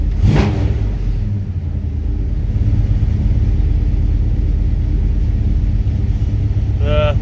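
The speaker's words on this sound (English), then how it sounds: "She's idling up pretty high, about 1100 RPMs right now." A 1970 Plymouth Duster's engine idles high at around 1100 RPM, a steady, loud, close rumble that holds evenly throughout, with a brief louder burst at the start.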